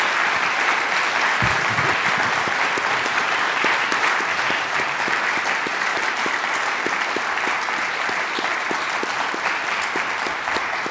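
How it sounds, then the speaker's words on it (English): A university audience at a Killam event gives sustained applause honoring a speaker, steady dense clapping that fills the room evenly for about eleven seconds without letting up. "let's have a round of applause for Lorne Tyrrell"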